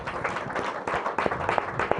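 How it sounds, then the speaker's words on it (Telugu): An audience at a church healing ministry service clapping hands together, a quick burst of scattered, fairly close claps with uneven rhythm over two seconds. "ఒకసారి మీరు అందరు చప్పట్లు కొట్టండి"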